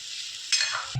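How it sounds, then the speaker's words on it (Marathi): Chicken pieces frying in a pan with onion-garlic paste, a short stirring scrape over a steady sizzle, with a brief low knock at the end. "आता थोडं हलवून घेऊया"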